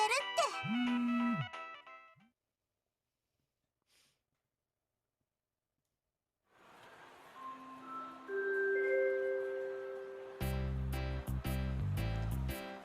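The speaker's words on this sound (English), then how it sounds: "I hear the sound of her phone ringing coming from the bag that I'm holding." Mobile phone ringing from inside a held bag in a Tokyo school-life video game, a short melodic tone near the start, then silence, then a rising game melody and bright chiming music filling the rest.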